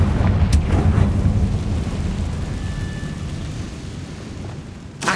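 A deep, rumbling fire-spell blast from Confringo in Hogwarts Legacy, loud and sustained, rolling into a long low roar that slowly fades before a brief crackle at the end.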